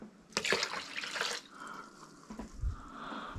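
Water pours from a cup into a bowl of fish brine in a short bright splash, then settles into softer trickles and a low slosh, heard up close.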